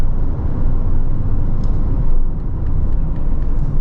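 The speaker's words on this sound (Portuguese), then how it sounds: "Vou baixar aqui a marcha." A GWM Haval H9 engine drones steadily as the driver downshifts at 80 km/h, a loud, continuous low rumble mixed with road noise inside the cabin, with no voices.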